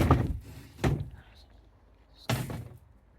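A wooden shed door on a small farm is pushed shut in several heavy thumps and knocks, close and fairly loud, with brief pauses between them and a little talking nearby.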